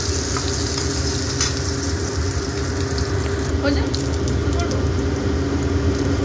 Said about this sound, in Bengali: একটু হালকা লালচে করে বেগুনগুলোকে ভেজে তুলে নেব।